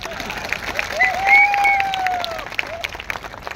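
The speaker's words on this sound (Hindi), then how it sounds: "तो फिर तालियां कौन बजाएगा?" Audience applause fills a motivational business seminar hall, steady clapping throughout with a raised cheering voice sliding above it, swelling midway then easing.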